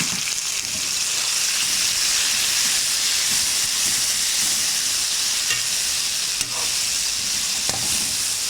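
Tomatoes, chopped green chillies and sliced ginger fry in a pan, giving a steady, loud broadband sizzle with occasional stirring scrapes throughout and no talking.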